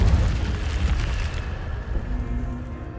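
The Incendio fire spell cast in the video game Hogwarts Legacy, a loud whooshing burst of flame that crackles and fades over a few seconds into a quieter hiss, with no talk.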